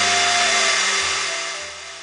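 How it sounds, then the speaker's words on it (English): A cacao winnower hums with a steady motor whine and airy suction as it pulls husk away from cracked cacao nibs dropping into a bowl, running continuously at close range. "I'm now using the winnower that sucks away the husk and lets the nibs fall into the bowl."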